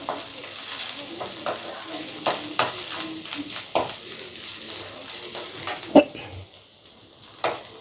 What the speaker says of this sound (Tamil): இஞ்சி பூண்டு விழுது போட்டுக்குங்க. அதையும் போட்டு நல்லா சுருளை வதக்கிடுங்க, பச்சை வாசம் போகணும்.